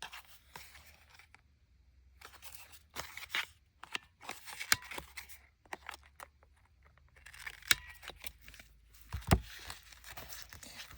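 Scissors snip the edge off a paper tag for a Victorian masterboard project: quiet, close crisp cuts and crunches in short clusters, separated by near silence.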